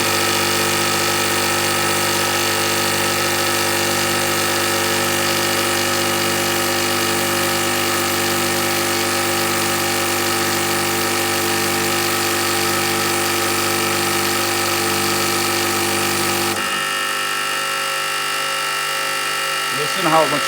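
Car engine idling after a fuel pressure damper has been fitted: a steady, even hum running evenly for about sixteen seconds, close and fairly loud, before it cuts to quieter background noise at the end.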